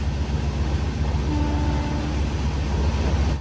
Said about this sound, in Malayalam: ട്രെയിൻ ഇപ്പോൾ വള്ളിയൂർ റെയിൽവേ സ്റ്റേഷനിൽ എത്തിയിരിക്കുകയാണ്.